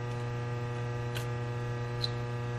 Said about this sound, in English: Our oven is weird and it makes a lot of noise.